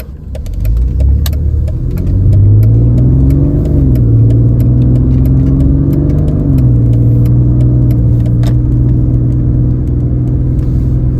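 A Mercedes car with a 5-speed automatic transmission in agility mode accelerating, a loud close interior engine drone rising in pitch, then dropping as the gear changes, steady and continuous.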